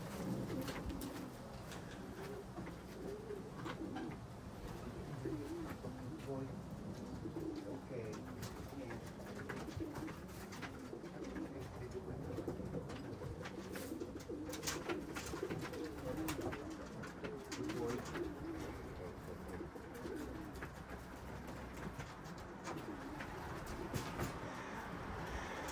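Racing pigeons coo continuously in a loft, a dense layer of low murmuring coos from many birds close by, with occasional wing flaps and faint background noise.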